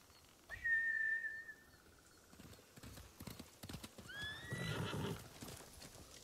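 A samurai horse in the video game Ghost of Tsushima neighs with a long high whinny, then clip-clops closer and gives a second rising whinny, with hoofbeats and faint background ambience throughout.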